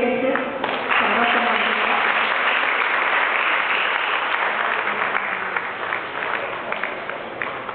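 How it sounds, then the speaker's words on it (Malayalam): A crowd at a family gathering applauds warmly, a dense, sustained burst of many hands clapping that starts strong and fades slightly toward the end, with no talk. "എല്ലാവരും കൈയടിച്ച്"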